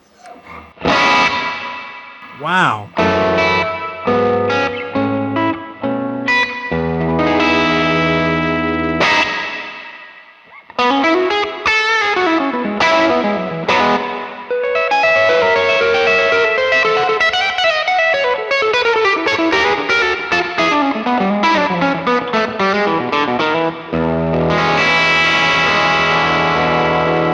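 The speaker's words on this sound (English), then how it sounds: "let's go to the fourth style of reverb available, which is hall and plate together" An electric guitar runs through a Universal Audio Golden reverb pedal set to combined hall and plate, chords and sweeping bends blooming into long washy tails, with a brief pause midway and a single voice exclaiming once.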